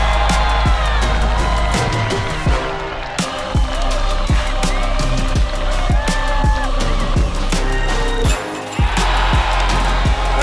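A crowd cheering and whooping at a disc golf tournament in Oregon. The roar holds steady and loud, with scattered claps, shouts and whistles throughout.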